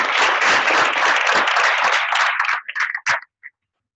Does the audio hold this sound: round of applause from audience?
yes